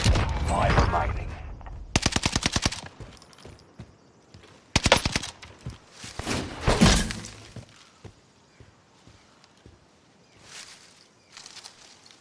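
A Bren light machine gun with a 100-round magazine fires in Warzone. Several loud, close bursts of rapid shots are broken by pauses, with thuds and shattering noises in between.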